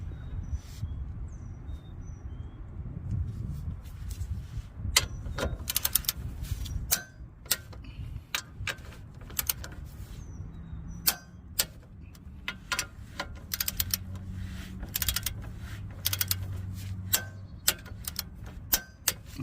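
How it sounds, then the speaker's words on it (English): Torque wrench working on a Toyota Corolla CV axle gives a long run of sharp, irregular clicks, close and fairly loud over a low background hum, with no voices. "Then you're gonna get your click off tool and your torque wrench, and you're gonna click it off to 25 foot-pounds."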